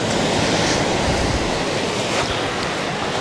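Waves lap and wash in a small harbour, a loud, close, continuous surf hiss roughened by some wind noise, with no talking.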